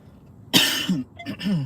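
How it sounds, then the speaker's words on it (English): A sudden harsh cough bursts out close up, followed by a few smaller raspy coughs and throat clearing. "Perfect timing on this little cough attack I'm having."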